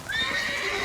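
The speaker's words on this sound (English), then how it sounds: "Trying to get off my horse here." A horse neighs loudly in The Witcher 3, a long, wavering whinny with rising and falling pitch that fills the whole moment, close and alone with no talking.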